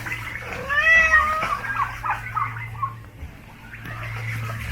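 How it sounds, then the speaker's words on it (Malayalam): A Persian cat meows a few times near the start, rising and falling tones, then quieter background with a low steady hum underneath. "ഇപ്പം നമ്മൾ കാണുന്നതാണ് പേർഷ്യൻ കാറ്റ്"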